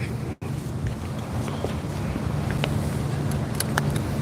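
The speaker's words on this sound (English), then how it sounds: "it's a beautiful day out here today, but it's so windy." Strong wind buffets the microphone outdoors at a waterside spot, a steady broadband rumble holding for several seconds with a brief dropout near the start and a few faint distant ticks.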